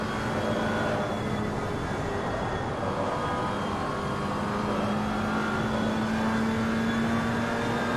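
GT4 racing car engine in the Simufur GT4 video game at the Nurburgring, a steady loud drone with a rising pitch as the car accelerates through the Schumacher S's, continuous for the whole stretch.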